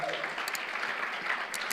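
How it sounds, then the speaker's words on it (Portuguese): A church congregation claps during a worship service, with a short burst of crowd applause that is moderately loud and slightly distant, a few individual claps standing out. "Você pode dar mais um aplauso bem forte ao Senhor"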